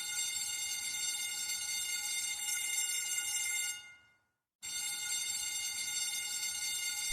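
A fire alarm rings continuously in a school setting, a loud, steady electronic tone with strong harmonics that cuts out abruptly for about a second before resuming at full volume.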